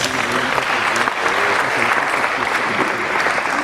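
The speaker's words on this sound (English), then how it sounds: "Let's give a round of applause" An audience at a ceremony honouring Miss Limpopo Province breaks into loud, sustained applause, a dense wash of clapping that holds steady throughout.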